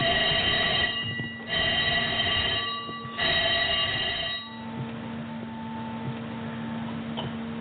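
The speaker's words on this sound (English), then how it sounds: "When you're ready, sound the alarm." A shipboard fire-drill alarm rings in loud pulsed bursts, each about a second long, then changes to a steadier, quieter continuous tone.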